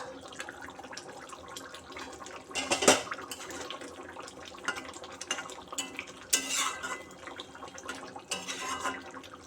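A cooking pot of mustard hilsa has its lid lifted: quiet simmering background marked by a few sharp metallic clanks and rattles of lid and pot, the loudest near the middle, with no talking.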